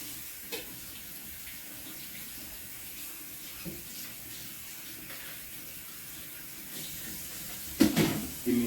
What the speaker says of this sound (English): get this all rinsed out